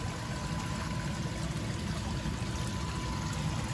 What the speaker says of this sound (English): just forgot to open up the valve to let the water come through